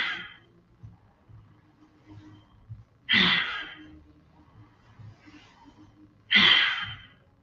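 Deep forceful breaths out during a seated breathing exercise, three strong breathy exhalations spaced about three seconds apart, close and clear against a quiet background.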